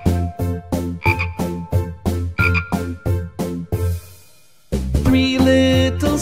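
Frogs croak in a children's animal song: about ten rhythmic, evenly spaced croaks, loud and close, followed by a short pause and then a sustained musical tone.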